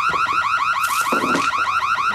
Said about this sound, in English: The alarm will be triggered.